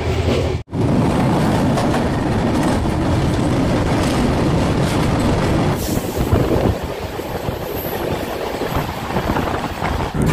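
Onboard the 13125 Sairang Express passenger train between Kolkata and Guwahati, a loud, continuous rumble of wheels on rails carries rhythmic clattering and a brief dropout near the start.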